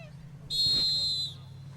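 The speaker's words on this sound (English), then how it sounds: "So after that whistle, we have a stop and play" A referee's whistle sounds once in a girls' under-12 football match, a sharp, steady blast lasting nearly a second over low background hum, with no speech.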